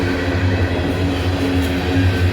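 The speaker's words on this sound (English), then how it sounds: "This is a big, long, heavy train, I guess. Here's the coal cars attached to the back of it." A long, heavy freight train hauling SCWX coal cars rolls past close by with a constant low rumble and steady rail noise, with no voices.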